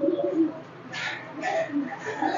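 Pigeons coo softly at close range in a few low, throaty bursts, with brief rustling in between. Someone speaks quietly in the background.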